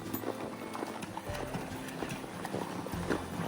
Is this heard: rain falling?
no